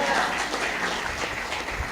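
A church congregation claps during a Sunday service, a fairly loud, continuous wash of applause with light voices mixed in.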